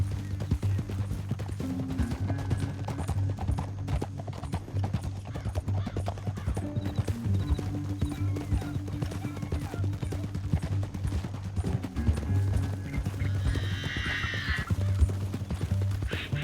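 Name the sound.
horses galloping and neighing in video game Red Dead Redemption 2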